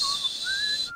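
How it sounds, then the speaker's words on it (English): A short whistled tune in a radio advertisement, a couple of clear rising and falling tones lasting about a second over a steady background hiss. "And don't forget to give a little whistle."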